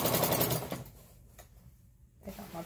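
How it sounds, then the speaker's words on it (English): A sewing machine stitches along the folded edge of a lined blackout curtain, a loud, steady rapid whir up close that stops partway and restarts briefly at the end, with no talking. "I'm sewing along the edge."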